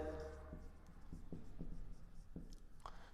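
Chalk or marker writing on a board during an accounting lesson on non-profit organisations, several short scratchy strokes in an irregular rhythm, close and fairly quiet over a faint room hum.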